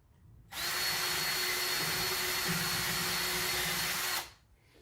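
A CNC machine drills straight through aluminum in one steady, loud, high-pitched whine lasting about four seconds, starting and cutting off abruptly.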